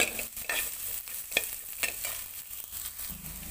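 Onions frying in a pan while being stirred for a cauliflower sabzi, a steady sizzle broken by repeated scraping strokes of the spoon, close and alone with no voices.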